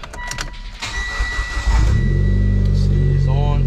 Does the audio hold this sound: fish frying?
no